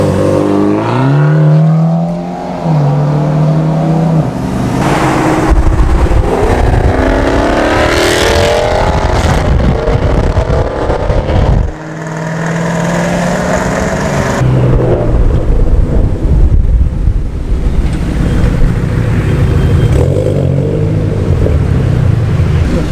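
A 720 HP Ford Mustang GT exhaust roars loud and close as the car accelerates through city streets in Mumbai, surging and revving in repeated waves with no talk over it.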